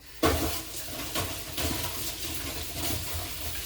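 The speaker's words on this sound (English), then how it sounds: "Rinse my hands off here." Water runs steadily from a kitchen tap as hands are rinsed under it, a continuous close splashing with small surges and no talk.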